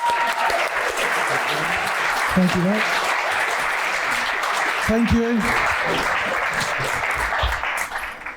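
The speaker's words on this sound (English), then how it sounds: "Can we have a round of applause for all the speakers," An audience at an in-person sales leaders' event claps for the speakers; dense, sustained applause fills the room close-up, while someone briefly says thanks over it.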